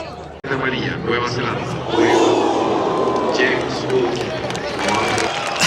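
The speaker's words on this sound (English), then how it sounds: "A cheer has just gone up from the neutrals here" Neutral football fans cheering in a World Cup stadium crowd in Chile, a broad roar of voices swelling steadily around the ground over continuous crowd noise.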